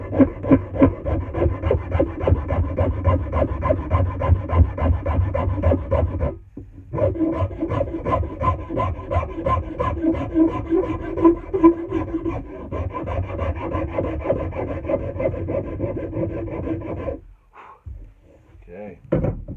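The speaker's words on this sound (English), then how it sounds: "because it's concave in there, I'm using the rounded side of my rasp because it reaches in there really nice" A rasp's rounded side works the concave curve of a hickory handle for an American felling axe, giving steady, close rhythmic scraping strokes with a brief pause partway through before they stop near the end.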